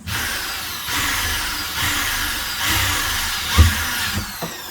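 A power drill drives metal screws up into ceiling panels of a Mitsubishi L300 campervan, with several rising whirring bursts and a few knocks against the panel.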